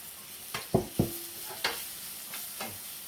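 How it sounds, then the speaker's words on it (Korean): Shiitake mushrooms are stir-fried in oil in a pan. A few sharp scraping strokes and clacks of a utensil sound over a low, steady sizzle. "펴가면서 볶아주세요."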